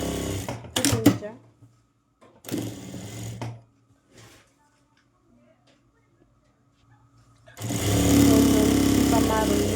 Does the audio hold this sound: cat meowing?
no